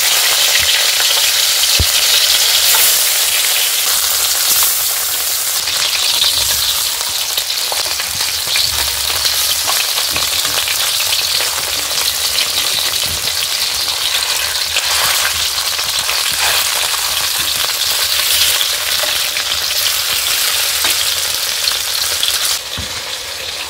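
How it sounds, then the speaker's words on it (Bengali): Featherback (foli) fish pieces sizzle loudly in hot oil, a continuous close-up frying hiss with bursts of spattering crackle that hold steady throughout, alone without speech. "তেলটা গরম হয়ে গেছে, মাছগুলি দিয়ে দেব।"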